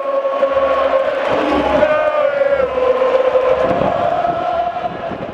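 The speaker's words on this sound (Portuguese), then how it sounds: "esse alarido, o grito da torcida" Football crowd at the Brinco de Ouro stadium in Campinas, Brazil, a continuous loud roar of shouting and chanting fans, dense and sustained, with rhythmic low thumps of drumming underneath.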